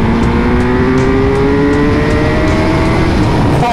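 A Suzuki GSX-R 1000 motorcycle accelerating hard in third gear on the Autobahn, its engine note climbing steadily and loud and close, with heavy wind roar throughout and no voice.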